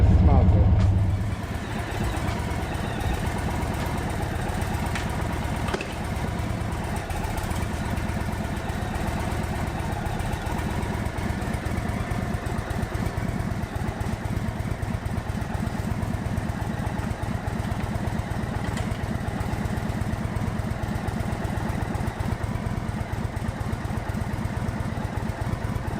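An Indian Super Chief motorcycle engine drones steadily while riding, a continuous low rumble with a sharp start and even loudness throughout, probably with a voice talking over it.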